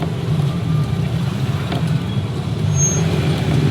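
Busy road traffic with cars and trucks passing, heard from a moving motorbike as a continuous loud rumble with swelling vehicle noise and a brief higher whine.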